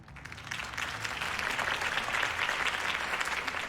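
A crowd applauds after a political campaign speech in the Batman Telltale video game, a sustained, dense wash of clapping from many hands that swells and holds steady throughout.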